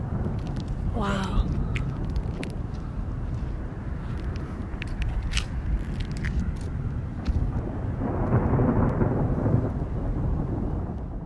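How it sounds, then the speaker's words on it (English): Thunder rumbles low and continuous under steady rain, swelling louder toward the end, with a few faint voices in the background. "We're like right under a big lightning storm."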